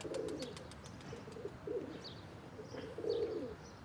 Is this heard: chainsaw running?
no